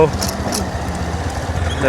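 A motorcycle engine idles low and steady at a parking spot during a rainy-season outing, a close, continuous rumble that runs under people talking.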